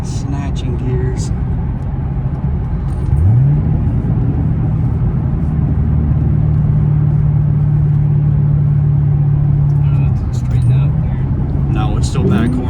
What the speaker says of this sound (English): I don't know if the camera's if the mic's picking up that whine